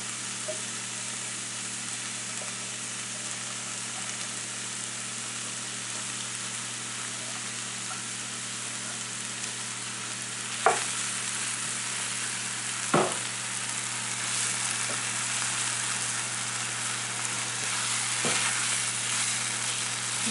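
Onions and ground beef sizzle steadily in a pot for a tater tot casserole, a constant close frying hiss under a low hum, with a few sharp knocks from stirring.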